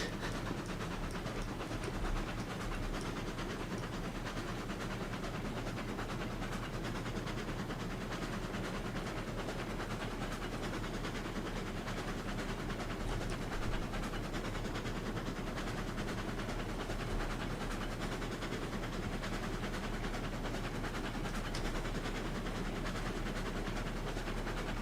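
A freight train hauling stake flats and box cars rolls along in the railroad game Railroads Online. The rumble is steady and unbroken, with a low hiss, and no voices are heard.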